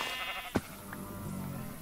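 Sheep bleat in a video game modpack, a single short bleat standing out clearly over a low game background.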